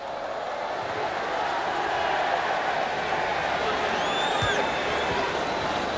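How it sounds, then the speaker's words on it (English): Stadium crowd applauding France defender Laurent Blanc as he leaves the pitch at a France v World XI football match: a broad, steady wash of distant clapping and crowd noise throughout, with a commentator's voice over it. "Laurent Blanc takes the applause as he heads for the dressing room"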